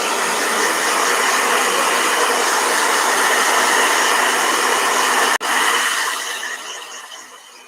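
A blow dryer blasts a steady, loud, close whoosh over a watercolor painting, cutting out briefly near the end before a short restart that fades away.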